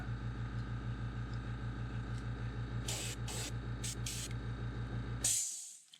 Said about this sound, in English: We're just going to mist those shells with that same color,